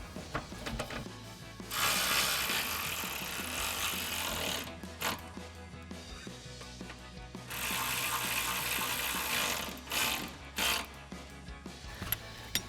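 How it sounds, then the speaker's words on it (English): A ratchet drives an Allen bit, tightening the mounting bolts on an Amp Research PowerStep running board bracket of a Jeep Wrangler JL. Two long bursts of rapid, close clicking come with brief pauses, then a few shorter bursts. "we'll use our 3/16 Allen bit to tighten these down"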